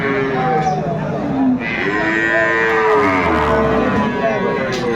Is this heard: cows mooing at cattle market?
yes